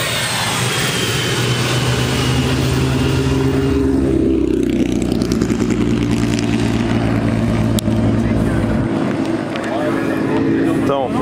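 A passing car whose engine roars like an airplane jet, a loud, droning rush with shifting pitch that builds and fades over several seconds, with voices talking over it near a racing event.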